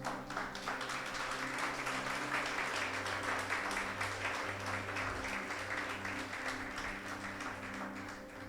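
Church congregation clapping during a Spanish-language sermon on communion, a steady, full wash of applause under sustained organ or keyboard tones that hums along beneath it throughout.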